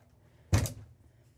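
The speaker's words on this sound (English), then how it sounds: "I just wanted to show you the nice little pocket door here" Pocket door in a Newmar Dutch Star 3718 motorhome sliding shut, a single short rumbling slide ending in a soft thump as it closes and locks in place, close by in a quiet interior.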